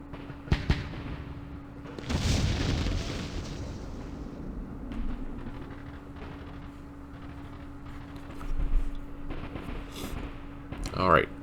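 Artillery and mortar fire in Campaign Series Vietnam, Lam Son 719, sounds as a few sharp reports and a heavier rumbling blast, with a steady hum beneath and a voice talking throughout.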